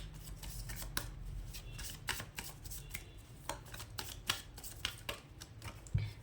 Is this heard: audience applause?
no